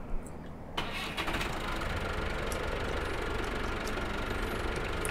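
A vehicle engine in Farming Simulator 2015 cranks and starts, then settles into a steady, rumbling idle that continues for several seconds with no talking.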